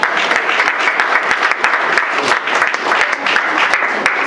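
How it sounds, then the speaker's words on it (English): Loud, dense applause from a Veterans Day audience honoring a Navy WAVE veteran, many hands clapping steadily and close throughout. "let's give you a round of applause"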